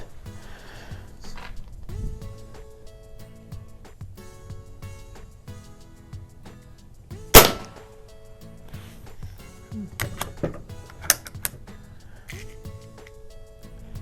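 Crosman model 180 air gun firing at a shooting range: one sharp, loud crack stands out, followed by a few smaller snapping impacts amid a steady low background hum.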